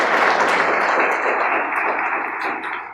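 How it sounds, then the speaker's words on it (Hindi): An audience bursts into dense, close applause, a steady wash of many hands clapping that fades slightly toward the end. "एक जबरदस्त ताली हो जाए इस ग्रुप की तरफ से।"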